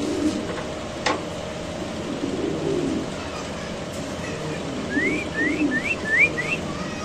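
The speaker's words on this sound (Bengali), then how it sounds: "দেখেন কবুতর গুলো আমরা একটু ছাড়লাম খাঁচাতে" Fancy pigeons coo softly inside a cage after release, low murmurs over a steady background hiss, followed by a quick run of rising whistle-like chirps near the end.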